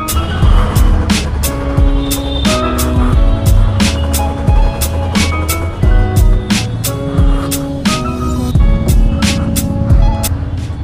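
A Royal Enfield motorcycle idles while warming up, with a loud, close engine thumping in a steady, uneven throb and running continuously with no talk.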